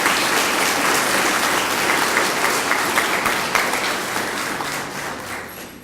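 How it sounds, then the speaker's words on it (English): An audience applauds at a nurse aide and EMT recognition ceremony, dense sustained clapping from many hands that gradually thins and fades toward the end. "I think you need to give them a round of applause before you do anything else."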